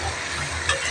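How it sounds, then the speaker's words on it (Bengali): Potatoes deep-frying in a lot of oil, a loud close continuous sizzle and hiss with no speech. "আলু ভাজা বলে এত ডুবা তেলে ভাজে"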